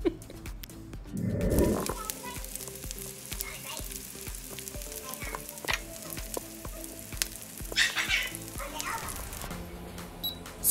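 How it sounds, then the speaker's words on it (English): Sausage fries in a pan, giving a steady sizzle that runs beneath music and a voice, with a few louder clatters and bursts along the way. "But you also need to know how to cook the sausage."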